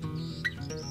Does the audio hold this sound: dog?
no